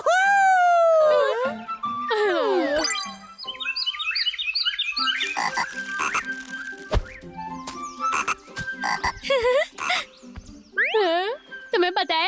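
Frogs croak in a Hindi animated cartoon, the croaks mixed with cartoon music, boings and character voices speaking throughout, loud and busy, with repeated croaking bursts near the start and end.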